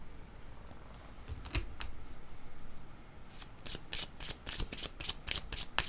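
Playing cards are handled close by: a few soft flicks at first, then a quick burst of crisp riffling and shuffling in the second half.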